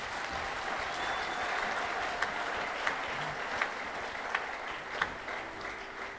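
A church congregation at a French-language sermon claps and cheers in acclamation of the Lord, a steady, fairly soft wash of applause with a few sharper individual claps standing out near the end.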